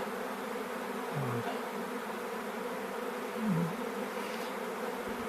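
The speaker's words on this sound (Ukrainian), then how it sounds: "матка вже там і всі туди одразу ж ринули бджоли" A dense, steady drone of a swarm of honeybees following their queen, continuous and close, with a few individual bees swelling louder as they pass nearby.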